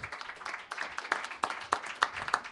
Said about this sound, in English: I'd like you to give a big round of applause for the winner of our first songwriting contest, Charlie Heineman